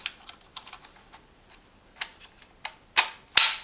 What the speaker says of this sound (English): And then you can install one of the cutting blades